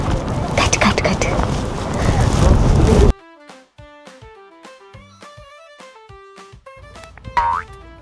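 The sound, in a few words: strong wind in the Scottish Highlands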